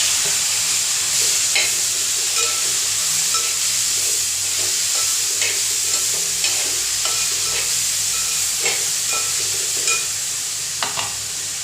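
Four medium tomatoes sizzle and fry in a pan, with a constant hiss and occasional soft scrapes as they are stirred, close and steady without talking.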